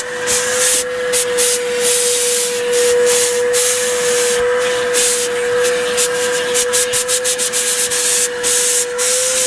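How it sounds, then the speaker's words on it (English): A steam cleaner works over a fire-damaged Nissan Skyline's interior, giving a loud continuous hiss with a steady whistling tone and rhythmic rubbing bursts as it is passed back and forth. "We steam cleaned and vacuumed the seats."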